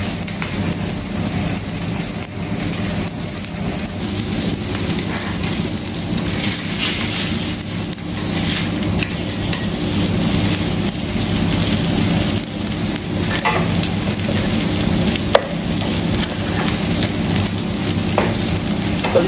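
A ribeye steak frying in oil in a hot pan, cooked medium rare: a loud, steady, close sizzle with dense crackling and spitting that runs unbroken throughout with occasional sharper pops.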